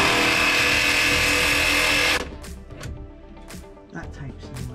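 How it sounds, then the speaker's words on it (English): A jigsaw rips steadily through the metal panel of a Citroën Relay van to open a window hole, a loud buzzing cut that stops abruptly after about two seconds, followed by quieter handling noise and faint talk. "he's more used to using the jigsaw than I am"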